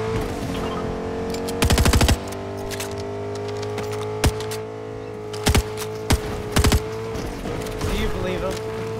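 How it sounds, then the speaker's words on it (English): Automatic gunfire in an online shooter game, several short bursts cracking out over a steady hum of game ambience and music, with voices talking over it. "Gunfire."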